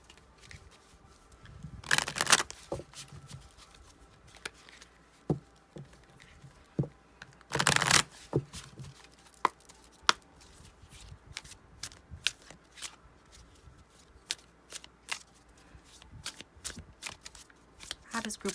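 Tarot cards are shuffled by hand in close, crisp riffles and flicks, with two longer bursts of rapid card flutter and many quick separate snaps in between.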